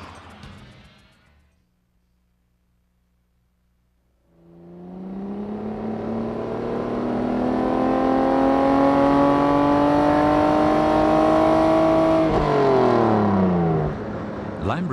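A Lamborghini Diablo supercar's engine rises into a loud, sustained drone as the car accelerates, building over several seconds and holding a steady high note before easing slightly near the end.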